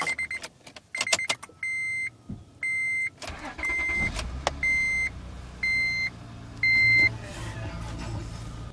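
A 2004 Acura TL makes a cold start on a clear day. Repeated electronic chime beeps come first, then the engine catches and settles into a low, steady idle while the chimes continue over it.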